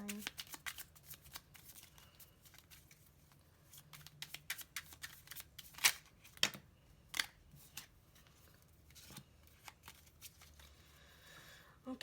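A tarot card deck is shuffled by hand in quick riffling bursts and sharp snaps, close and fairly quiet, with short pauses between bursts and no voices.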